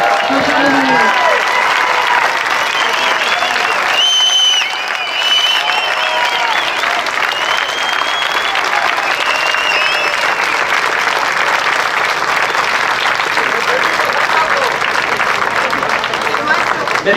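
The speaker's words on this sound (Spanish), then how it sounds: "Please give a big round of applause to Juan A Carlos." A large audience at a political talk in Torrelavega gives a speaker a long, sustained ovation, with dense, loud clapping and crowd voices mixed in throughout.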